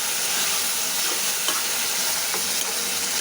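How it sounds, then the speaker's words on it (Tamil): Tomatoes sauté in a pan with onions, giving a continuous bright sizzle with faint stirring scrapes, close and steady with no voices. "இது பச்சை வாசனை போகிற வரைக்கும் நல்லா வதக்கி விடுவோம்."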